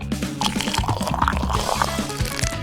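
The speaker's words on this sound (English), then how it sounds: "Add some water beads and," Water pours and trickles into an eggshell bathtub in a tiny cardboard house, a continuous bubbling, gurgling stream heard close and fairly loud with no talk.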